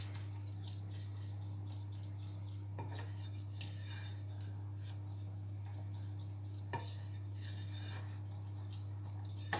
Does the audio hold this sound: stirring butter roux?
yes